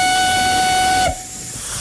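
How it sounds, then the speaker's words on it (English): A steam locomotive at a heritage railway in Downpatrick, County Down, lets out a loud, close steam whistle blended with hissing steam, which cuts off abruptly and leaves a softer, continuing hiss of escaping steam. "the steam is coming fast and furious"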